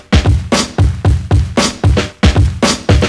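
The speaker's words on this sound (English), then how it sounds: "If I play the kick and snare from the first breakbeat, they sound like this." A breakbeat kick and snare pattern plays alone at a quick pace, with punchy low kicks and bright, noisy snare hits repeating in a steady groove.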